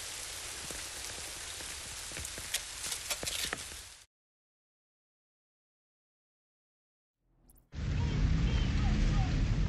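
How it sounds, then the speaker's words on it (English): Rain in The Division 2 pours steadily as a dense, hissing downpour, cuts to near silence for a few seconds, then returns as a heavier, rumbling wash of rainfall. "I just want to get out of this fucking rain."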